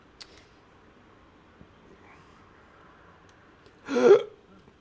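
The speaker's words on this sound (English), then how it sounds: "It was a yawn and a hiccup at the same time." A single person's hiccup merged with a yawn, one short sharp breathy burst near the end of an otherwise quiet indoor stretch, preceded by a couple of faint clicks.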